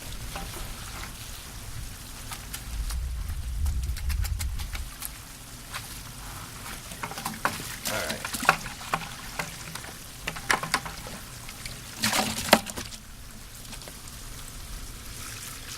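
Water poured and splashed during gold mining, a continuous trickling and splattering with irregular sharper splashes and a brief low thud early on, close by; one short spoken word.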